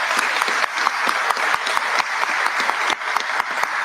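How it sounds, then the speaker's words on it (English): Dense, lively applause from an audience at a state governor's public safety announcement, many hands clapping at once in a continuous loud wash. "Let's give him a round of applause as well."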